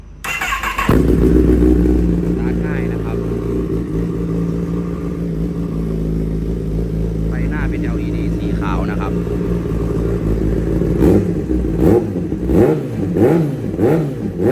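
A 2015 Kawasaki ZX10R with a full AR exhaust and carbon bodywork fires up and settles into a loud, deep idle. It then gives several sharp throttle blips near the end, and someone talks over the engine.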